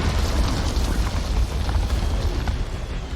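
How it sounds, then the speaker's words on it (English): Geth cannon fire in Mass Effect 2 produces a continuous heavy rumbling roar of explosions, loud and dense, with scattered bursts layered through it and no speech. "Warning, Geth cannon is locking on our location."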